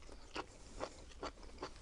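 Four crisp crunches of teeth biting into a raw, black, truffle-like exotic mushroom, evenly spaced and close up against a quiet background.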